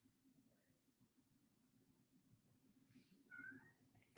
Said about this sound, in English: my cat's yapping at the door